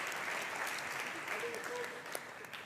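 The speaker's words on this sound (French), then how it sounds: "On peut applaudir l'entrée du coach Michael dans les jurys principaux" A talent show audience applauds a coach's entrance onto the main jury panel, a steady wash of distant clapping at low volume with faint voices mixed in.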